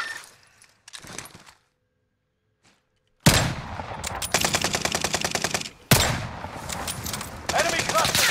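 Bursts of automatic gunfire in the battle royale shooter Warzone: rapid, loud rattling volleys that start abruptly after a near-silent stretch, pause briefly, then resume with dense continuous firing.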